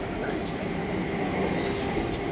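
Steady rumble and rolling noise of a train carrying passengers to a London airport, heard from inside a carriage as a continuous loud roar.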